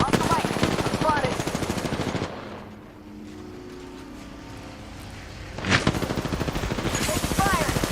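Video game gunfire comes in rapid automatic bursts at the start and again near the end, with a quieter stretch between them. The shooting runs under game voice chatter.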